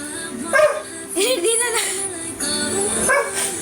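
A pet dog barks and yips repeatedly at close range in an indoor room, the barks sharp and loud, with some whimpering pitch slides between them.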